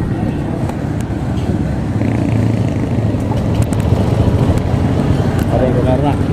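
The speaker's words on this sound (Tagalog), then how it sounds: "Andar natin yung motor." A Honda Beat scooter engine idles steadily nearby, a continuous low putter that runs throughout, with a brief voice and light clicks over it.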